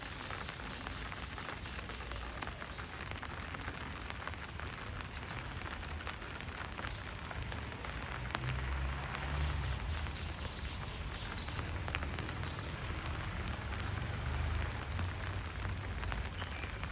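Light rain patters steadily across a rooftop terrace garden, faint and even throughout, with a couple of soft bird chirps and occasional drips standing out near the start.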